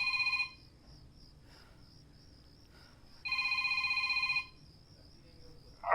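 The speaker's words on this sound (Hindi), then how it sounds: "मेरी बीवी का फोन है" A telephone rings in a domestic scene, two loud electronic trilling bursts separated by a few seconds of quiet room tone, with a brief noise at the very end.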